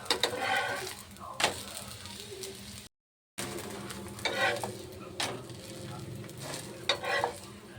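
Thin fasting dosa for Navratri frying on a pan and being flipped, a steady sizzle with a few scraping knocks from the turner, close by, with a brief silent gap and no talk.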